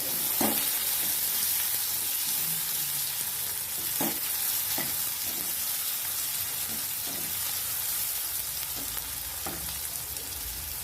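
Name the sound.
chopped onion frying in a pan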